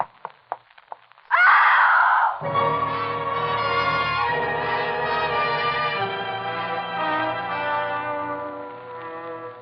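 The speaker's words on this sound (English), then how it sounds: "It was a good, loud scream." A woman's loud scream in a radio drama, a sharp piercing shriek that rises after a few short sounds, then gives way to sustained dramatic music carrying on steadily.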